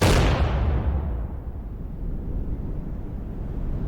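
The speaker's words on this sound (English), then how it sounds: "we could actually say with certainty that we'll hear the sound around 30 seconds after the explosion happened" A distant explosion from a computer-generated simulation booms in with a loud low-frequency burst, then rolls away as a long, heavy rumble that lingers through the rest of the moment, with no voices.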